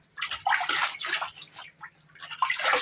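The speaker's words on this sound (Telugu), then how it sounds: "బకెట్లో వాటర్ తీసుకొని ఇలా క్లీన్ చేసుకోవచ్చు, లేకపోతే డైరెక్ట్గా ట్యాప్ కింద కూడా పెట్టేయచ్చు దీన్ని" Water splashes and gushes over a dusty LG air conditioner filter being rinsed, an uneven, fairly close rushing and sloshing that swells and dips throughout.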